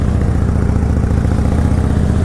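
A 650 motorcycle engine rolls along smoothly in first gear, a loud, close, steady low throb with an even rumbling pulse and no change in pace throughout.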